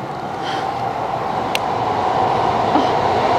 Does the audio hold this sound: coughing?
no